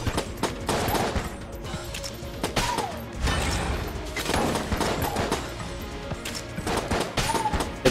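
Rapid AK assault rifle fire in the bullet-hell game Enter the Gungeon, with dense bursts of loud cracks mixed with enemy shots, impacts and game effects throughout, fairly continuous and busy.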